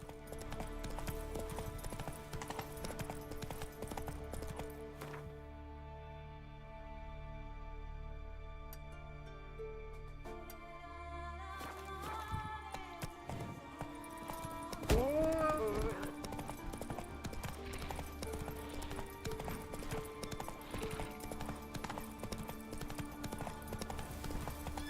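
The horse Roach's hoofbeats clop rhythmically in the video game Witcher 3 alongside musical tones and game effects, with a sharp jolt midway before the steady clip-clop resumes, and no clear speech.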